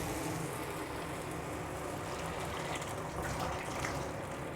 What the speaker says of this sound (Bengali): তো এই রাজমা এই কড়াতে ঢেলে দেব।